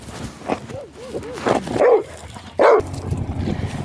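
Several dog barks and whines, with short yelping calls and two louder, sharper barks, heard close up over a background of faint human voices.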